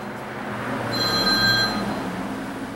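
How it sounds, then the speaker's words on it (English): A telephone rings once with a bright electronic tone over a steady room hum, mid-loud and alone for about a second before fading. "oh, wouldn't you know the phone would ring?"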